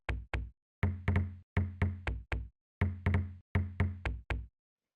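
Pitched-down minimal house percussion: low, deep knocks in a tight rhythmic pattern, short thuds grouped in quick pairs and triplets with silence between, dry and close.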